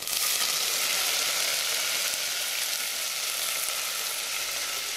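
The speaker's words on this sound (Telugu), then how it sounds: "పలావ్ సామాన్లన్నీ వేసేస్తున్నాను. అవి వేగుతున్నాయి. నూనె బాగా కాగుందండి." Pulao spices with cumin and curry leaves frying in very hot oil, a steady, even hiss of sizzling that keeps going for the whole stretch with no talking.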